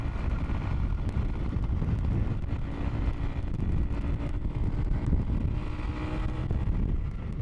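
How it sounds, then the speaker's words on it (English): A 1974 Harley-Davidson motorcycle engine idles steadily after carburettor tuning, a continuous low rumble heard close up with some wind buffeting on the microphone. "running nicely, just tuning the idle on the carbs and stuff"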